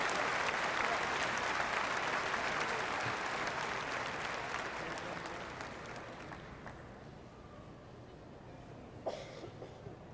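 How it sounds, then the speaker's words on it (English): Sustained audience applause, loud and dense at first, gradually thinning and fading over the final seconds with a few stray claps. "I think a round of applause would be in order"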